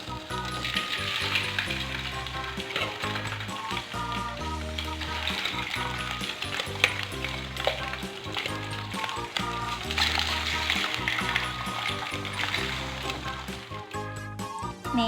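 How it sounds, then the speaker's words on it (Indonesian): Fish frying in hot oil, probably tilapia for a yellow-spiced acar dish, a loud steady sizzle and crackle close by that carries on without a break, with background music playing underneath. "Pertama kita goreng dulu ikannya, panaskan minyak. Lalu masukin ikan yang mau kita goreng."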